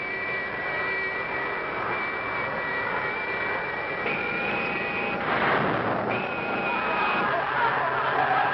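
A steady, loud engine roar from a space station in a 1959 sci-fi film, surging and swelling midway as the thrust is turned up, with a voice briefly heard over it.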